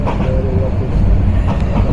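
Turna Express passenger train running on the Chittagong line, a steady low rumble and rattle of the carriage heard from inside, with faint talk in the background.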